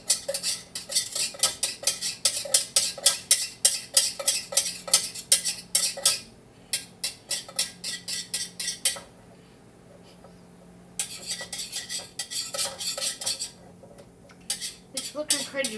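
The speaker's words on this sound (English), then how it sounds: "so I'm going to drop that into the wax, give this a stir" A utensil stirs red dye into melted candle wax in a container, with rapid rhythmic clinking and scraping in steady bursts, a pause in the middle, then more stirring; close and fairly loud.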